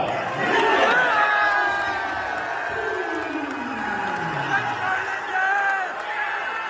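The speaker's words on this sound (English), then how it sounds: "friends chanting your name" A crowd at a charity boxing fight cheers and chants a fighter's name, loud overlapping voices and whoops rising and falling across several seconds with shouting throughout.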